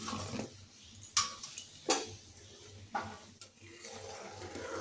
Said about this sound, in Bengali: চিনিটা গলে গেছে, এখন ভেজে রাখা বড়াগুলো এর মধ্যে দিয়ে দিচ্ছি